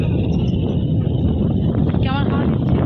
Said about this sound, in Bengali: কেমন হাওয়া দিচ্ছে